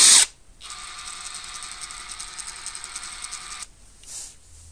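A Draper Expert 3/4 inch brushless impact wrench runs freely for about three seconds, a steady high-pitched mechanical whir with fast ratcheting texture, preceded by a sharp click and followed by quiet.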